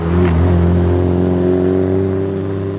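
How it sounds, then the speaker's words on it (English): Nissan S14 and other cars at a car meet, one engine loud and near with a steady droning rev that holds and slowly fades, a second engine note rising briefly near the start. "Bunch of really nice cars, pretty rad S14 here going around"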